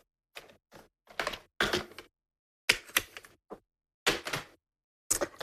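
Card stock being trimmed for a craft project, a series of short crisp cutting strokes in separate bursts with pauses between, close and fairly quiet.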